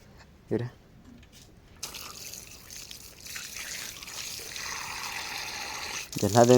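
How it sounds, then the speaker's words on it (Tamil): Water starts to flow and trickle, a steady splashing drizzle that begins suddenly and keeps going. Brief voices break in near the start and again at the end. "தண்ணி வருது"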